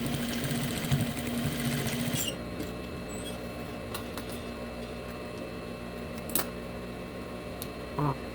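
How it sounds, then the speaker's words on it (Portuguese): Sewing machine stitching a trousers belt loop, its steady mechanical whir running for about two seconds, then stopping, leaving quiet room tone with a few faint clicks and handling sounds. "Vou passar a costura."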